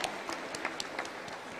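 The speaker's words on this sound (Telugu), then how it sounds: "శ్రీనివాసును ఒకసారి చప్పట్ల ద్వారా అభినందించవలసిగా కోరుతున్నాను" Faint, thin applause from a ceremony audience at an awards event, scattered claps standing out now and then from a soft, steady background wash.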